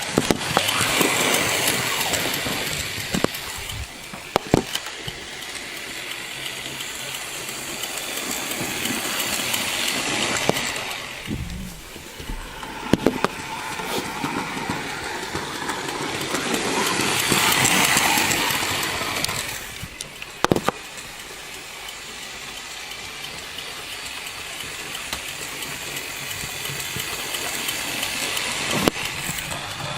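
A Bachmann GWR 4500 Class model steam locomotive chuffs steadily past with broadband hiss and rumble, swelling as it nears and fading away, with a few sharp knocks along the way.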